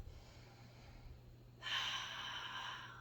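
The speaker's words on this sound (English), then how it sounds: "Take a deep breath." A single deep inhale while holding a plank during a mobility and recovery exercise session, quiet at first, then rising into a soft, sustained rush of breath that lasts more than a second.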